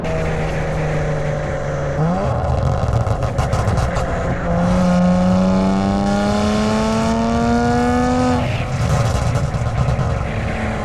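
A Kia Stinger with a straight-piped exhaust revs loudly up close, its engine note climbing, dropping briefly and then rising again in a long, raspy surge.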